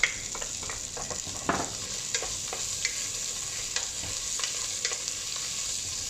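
Chopped garlic and onion fry in a pan with a bright, steady sizzle, broken by several sharp scraping and stirring clacks from a utensil, and no one speaks.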